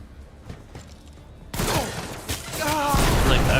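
Stun grenades in the game Warhammer 40k: Rogue Trader burst in a sudden loud blast followed by a dense, sustained crackle of combat effects, after a quieter stretch of game sound.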